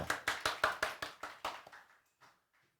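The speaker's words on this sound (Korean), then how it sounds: "박수" Church congregation at a Sunday service clapping in about ten distinct, evenly spaced claps at a moderate distance, gradually fading and ending in a few faint scattered claps.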